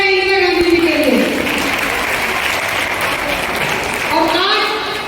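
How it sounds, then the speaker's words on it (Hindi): Loud, sustained applause from a crowd at a Delhi Mahila Congress political gathering, a dense wash of clapping filling the whole stretch, with a voice or musical tones briefly audible at the start and near the end. "एक बार जोरदार तालियां हो जाए इंदिरा गांधी जी के लिए।"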